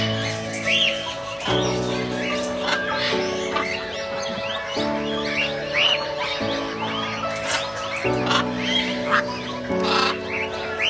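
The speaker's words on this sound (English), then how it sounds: "Visitors will have an exciting experience of watching colorful and melodic birds perching and winging about freely" Birds at a large aviary in Lake View Park, Islamabad, keep up busy chirps and calls, fairly loud, over a steady musical tune that changes notes every second or two.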